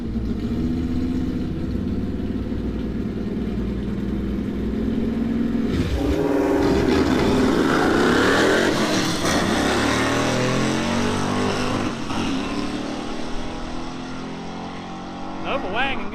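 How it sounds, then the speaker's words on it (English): At a street drag race, a Nova wagon with a manual gearbox and old heavy trucks rev and accelerate hard. Their loud engines roar continuously and swell as the vehicles pass through a water box. "So a little stick action, it sounds like, with the Nova wagon."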